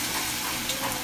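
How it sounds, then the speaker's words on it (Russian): Belarusian potato pancakes, draniki, frying in a pan of oil, giving a steady, close, even sizzle with no voices. "это все жарится в масле"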